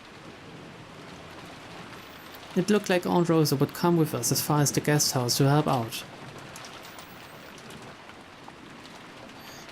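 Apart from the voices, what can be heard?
heavy rain falling outside, visual novel sound effect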